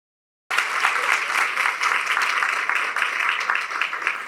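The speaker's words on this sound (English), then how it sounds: "Let's give all of our sponsors a round of applause." Sustained applause from a large crowd starts abruptly and holds steady and loud throughout, with many hands clapping together.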